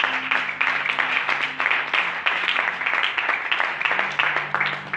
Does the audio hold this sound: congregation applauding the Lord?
yes